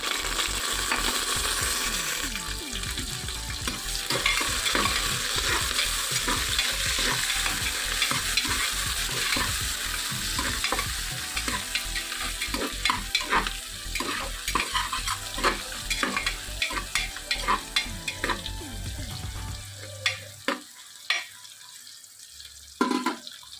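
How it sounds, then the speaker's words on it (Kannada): Chopped onions for beetroot biryani dropped into a hot pan with spices, giving a continuous loud sizzle with stirring scrapes, then tapering to scattered crackles and clinks near the end. "ಇದು ಸ್ವಲ್ಪ ಬಿಸಿ ಆದಮೇಲೆ ಈಗ ಕಟ್ ಮಾಡಿರೋವಂಥದ್ದು ಈರುಳ್ಳಿನ ಹಾಕೋಬೇಕು"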